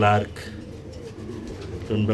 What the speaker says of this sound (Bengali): লার্ক কবুতর